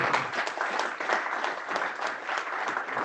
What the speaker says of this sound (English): if we could have a round of applause for these three gentlemen